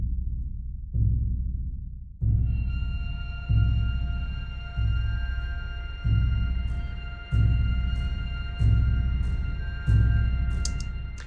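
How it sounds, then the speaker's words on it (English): Orchestral Gran Casa bass drum from a sampled library patch, struck in a slow steady pulse of deep, booming hits about every 1.3 seconds, each swelling and decaying, with a sustained tonal drone and faint high ticks layered above. "This is a Gran Casa bass drum patch from Salu by Orchestral Tools"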